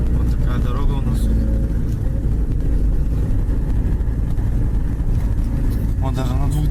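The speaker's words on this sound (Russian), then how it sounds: "Еду на третьей передаче" Car engine pulling steadily in third gear on a rough road, a continuous low drone with road rumble throughout, heard from inside the cabin while someone talks over it.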